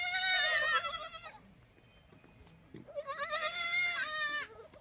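Farm goats give two loud, close, wavering bleats, one at the start and one near the end, with a quiet gap between them during the rainy season.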